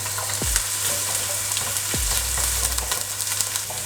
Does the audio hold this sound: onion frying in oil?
yes